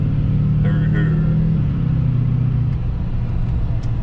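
A car accelerating while merging onto a highway from an on-ramp: a loud, steady engine and road rumble from inside the cabin, the engine note shifting midway, with a brief voice over it early on.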